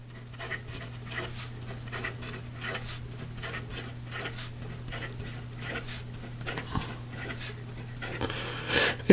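A Conklin Duragraph fountain pen writes quickly across paper with a steady run of close scratchy strokes over a low background hum, and no voice is heard.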